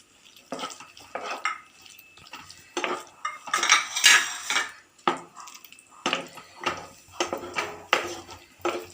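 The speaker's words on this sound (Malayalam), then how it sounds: "വറുത്തെടുത്ത ചിക്കൻ നമുക്കിതിൽ ഇട്ട് കൊടുക്കാം." Fried chicken pieces go into a pan with a sweet pineapple and cornflour sauce and are stirred, giving a run of loud metal spoon scrapes and clatters in an uneven rhythm with a light sizzle underneath.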